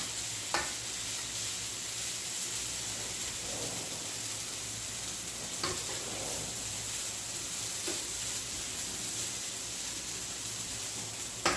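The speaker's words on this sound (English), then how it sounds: "The onions and the garlic and the hash browns. I'm just gonna let them get brown a little more." Tempeh hash with onions, garlic and hash browns fries in butter, giving a constant soft sizzle with occasional sharper crackles and a few stirring scrapes, close by with no voices.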